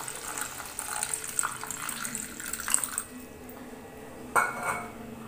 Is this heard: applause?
no